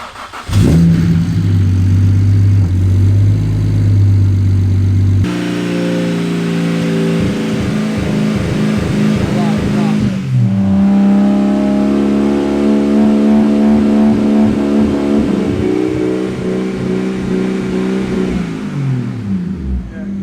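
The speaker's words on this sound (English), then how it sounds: "So this is the first attempt at startup with M4 coil packs." A tuned BMW N54 engine fitted with M3 coil packs cranks and catches, then revs loudly up and down several times, rough and uneven, close by, with a faint voice underneath.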